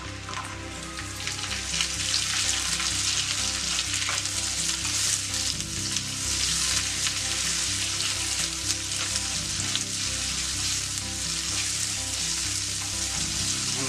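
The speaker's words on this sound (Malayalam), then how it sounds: "ഇനി നമുക്ക് നമ്മുടെ സവോള അരിഞ്ഞു വെച്ചിരിക്കുന്ന സവോള നമുക്ക് ഇതിലേക്ക് ആഡ് ചെയ്ത് കൊടുക്കാം" Chopped onions sauté in a hot pan with a loud, continuous frying sizzle. Sputtering crackles run throughout, close and unbroken for the whole stretch.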